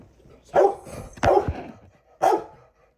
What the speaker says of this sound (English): Fetty, can you please stop barking?